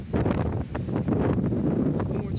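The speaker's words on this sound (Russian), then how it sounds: "Извиняюсь, наверное, плохо слышно, ветер." Strong stormy wind buffets the microphone on the Crimean coast at Beregovoe, a loud, gusty rumble with uneven surges that fills the whole moment.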